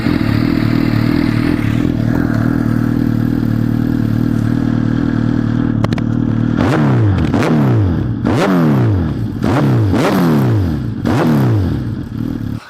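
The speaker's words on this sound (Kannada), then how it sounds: "ಅದು ಎಕ್ಸಾಸ್ಟ್ ನೋಟ್ ಒಂದು ಕೇಳ್ಕೊಳೋಣ." A Suzuki Hayabusa with a full exhaust system idles loud and close, then revs in five or six sharp throttle blips, each rising and falling.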